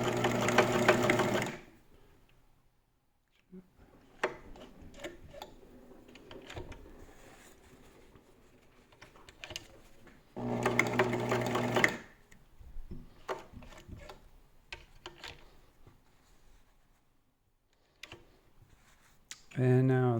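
Elna T SP 72C sewing machine sewing a satin stitch, with loud fast whirring runs at the start and again in the middle, separated by quieter clicks and handling noises, plus a short final burst.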